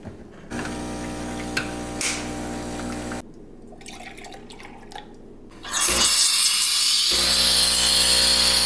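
An espresso machine making a latte, starting with a low mechanical hum and pump drone, a few clicks and quiet gaps, then a loud rushing hiss of steam wand frothing milk that holds to the end.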